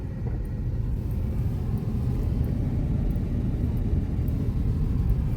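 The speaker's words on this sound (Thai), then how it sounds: "รถติดครับยาวเลย" Cars creep along in a long traffic jam near a busy festival market in Khukhan district, Thailand, a steady low engine rumble with continuous traffic hum and no voices.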